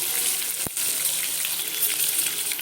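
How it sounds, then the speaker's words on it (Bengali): A pot of water heats toward a boil for cooking eggs, giving a steady, moderately faint hiss and bubbling with one brief clunk near the start. "জল আছে, জল ফুটিয়ে আসছে।"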